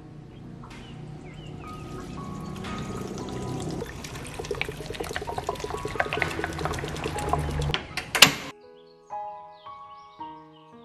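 Water poured off boiled soybeans while draining them for tempe, with a steady close pour that builds louder, then stops abruptly and gives way to a few faint drips and clinks.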